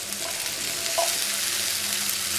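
Sliced okra hits a hot pan and sizzles in an even, continuous hiss with faint crackles, close up and with no voices.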